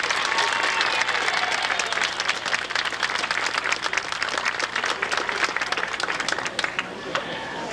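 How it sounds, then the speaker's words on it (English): A crowd at an outdoor welcome home ceremony for troops in 1991 claps steadily and densely throughout, a sustained wash of applause with a low background hum. "I think we owe these ladies a round of applause."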